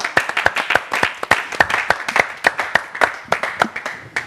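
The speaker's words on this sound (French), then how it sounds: "Applaudissements pour lui, s'il vous plaît." Sparse, distinct clapping from a small audience welcoming an artist at a trap music showcase, individual sharp claps in an uneven rhythm, close and fairly loud with no continuous crowd roar.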